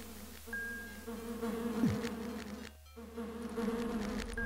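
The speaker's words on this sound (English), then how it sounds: "There's so many spider mosquitoes." A steady, close electronic-sounding insect drone from spider mosquitoes in the game Lands of Lore: The Throne of Chaos, wavering in pitch and briefly cutting out once, with no voices.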